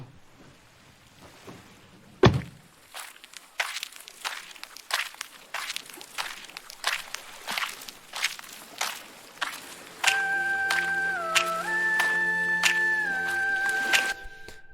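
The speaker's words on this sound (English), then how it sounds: "It's like some person hopping out their car, walking down the beach" Foley in an EDM song intro: a sharp car door thump followed by a steady run of crisp footsteps over soft ambience, then synth tones swell in beneath the continuing steps.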